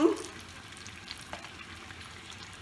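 Cumin seeds hit hot oil for a Bengali doi begun (eggplant in yogurt), giving a soft, steady frying hiss and crackle close by, with a few brief louder spits at the start and end; no one speaks.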